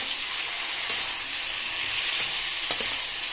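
Pork pieces and potato frying in a pan with spices, a steady close sizzle throughout with a few faint stirring clicks and no talk.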